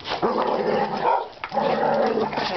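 Dogs playing together make close, loud barks mixed with growls and excited yips, in a continuous rough-and-tumble stretch with a brief dip midway.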